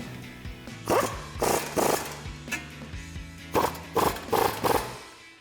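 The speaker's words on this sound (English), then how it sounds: "grab your 18mm swivel socket and tighten those down" An 18mm swivel socket tightens brake bolts on a Jeep Gladiator JT. Close, loud ratcheting bursts come in quick clusters with short pauses, and a faint hum sits beneath.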